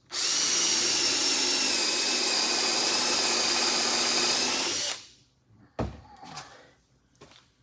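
A power drill drives a screw into a wooden horizontal beehive: a loud, steady whirring whine for about five seconds, then it cuts off, followed by a few close knocks and clunks.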